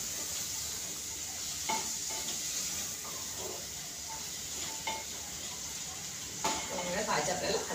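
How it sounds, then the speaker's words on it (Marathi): Vegetables for veg pulao stirred in a cooking pan, soft scraping and shuffling strokes at irregular intervals over a steady background hiss, moderately quiet and close. "भाज्या आपल्याला हलवून घ्यायची."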